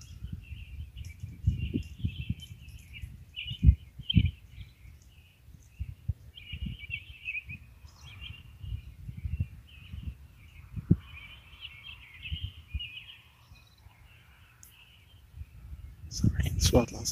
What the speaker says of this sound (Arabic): أصوات العصافير.